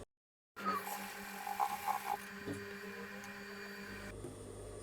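A sewing machine stitches an apron made from leftover fabric, starting after a brief silence and then running as a steady, faint mechanical hum and whirr with small rhythmic variations.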